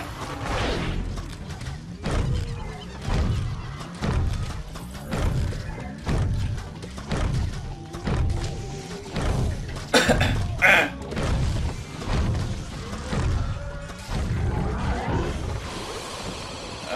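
Repeated explosion thuds from the Far Future stage of Plants vs. Zombies 2 land every second or so over a dense bed of game music and effects, with a bright crash near the middle.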